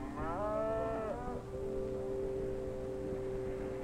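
Cattle grazing on National Forest land in the Rocky Mountains low loudly in one long, drawn-out moo that rises and then settles into a steady drone, alone and fairly close.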